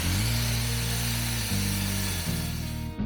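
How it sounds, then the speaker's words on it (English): An angle grinder whines steadily while stripping paint from a steel tab for a Harbor Freight three-point quick hitch. Its pitch dips briefly twice as the disc bites into the metal, close and loud throughout. "then I'll take the grinder and remove all the paint so I got a good surface to weld to."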